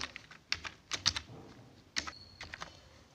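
Someone types a captcha code on a computer keyboard during an online form entry. There are sparse clusters of crisp, close keystrokes with short pauses between the bursts, and no talking.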